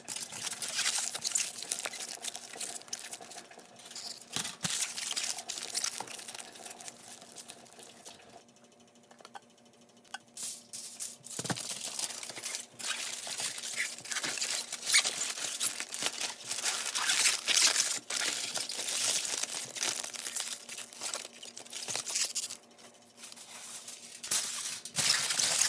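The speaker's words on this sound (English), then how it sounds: "So I wrap up the dishes in aluminum foil to prevent any condensation from forming in the plates while they're pressure cooking." Aluminum foil crinkling and rustling as it is wrapped around Petri dishes before pressure cooking, a near, busy run of crackles with a short quieter gap partway through.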